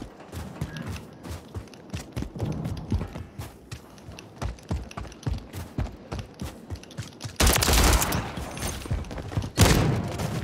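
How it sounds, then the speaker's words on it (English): In a video game, a sentry gun fires in rapid clattering bursts of close, staccato shots. The firing grows louder and denser into heavy blasts toward the end. "they spawned me right in front of a sentry gun"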